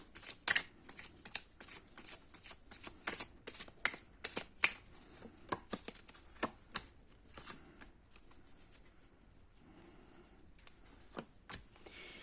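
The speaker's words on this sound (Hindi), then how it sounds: "तो इन्हें मैं वापस लेती हूँ और फिर से शफल करते हैं" Tarot cards are shuffled by hand up close, giving a rapid series of crisp riffling snaps and slaps in bursts that thin out toward the end, with no talking.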